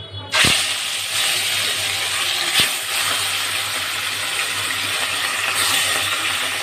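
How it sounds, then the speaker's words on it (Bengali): Fish dropped into hot oil in a wok set off a sudden loud sizzle that stays as a steady, close hiss, with a couple of brief clatters partway through. "আমি এবার মাছগুলোকে ভেজে নেব।"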